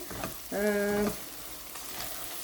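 Curry leaves are dropped into hot oil for pepper mutton fry, giving a steady close sizzle and crackle in the pan, with a brief tonal clang of utensil contact partway through.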